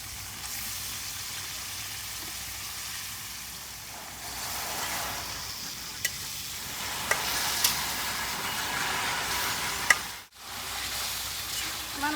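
Pieces of chicken fry in spiced oil for a village-style deshi chicken curry, a steady hissing sizzle that swells after the meat goes in, with a few stirring knocks and a brief drop near the end.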